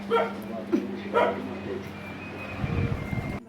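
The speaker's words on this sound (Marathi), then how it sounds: "कुत्रा असावा तिकडं फार ब्रुनो भुकतोय" A dog barks a few times nearby, short sharp yips with a slight whimper, against a steady low hum.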